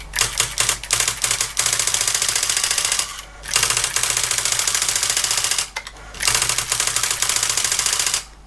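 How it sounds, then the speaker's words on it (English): Olympia ESW 100-KSR electronic typewriter under repair typing characters, loud rapid bursts of mechanical clatter with short pauses between runs of keystrokes. "I'll type some more characters and you should see it rotate each time I press one of the keys"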